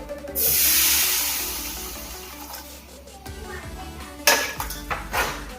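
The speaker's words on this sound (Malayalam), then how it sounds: "നമ്മൾ കുറച്ച് വെള്ളം ഒഴിച്ചു കൊടുക്കും" A sharp hiss and sputter as water hits a hot pan of chicken curry masala paste, fading into bubbling, followed by a few metallic clinks of a spoon against the pot.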